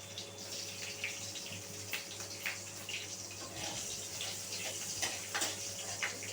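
Chopped green chili sizzling in hot tempering oil in a pan, a soft continuous hiss with scattered small crackles and pops, close but fairly quiet against a steady background hum.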